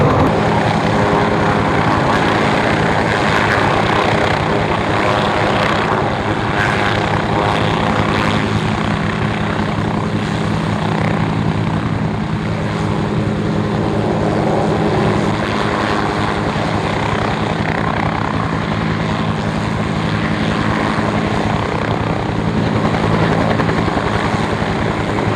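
Aircraft engines from a plane departing an airshow, a loud, steady drone with low propeller-like throbbing that holds throughout, close and continuous.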